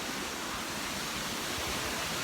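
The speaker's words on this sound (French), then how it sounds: "Ici on a une cascade, donc on est près d'une cascade." A waterfall pours in a dense, unbroken roar of rushing water, loud and close, with no one speaking.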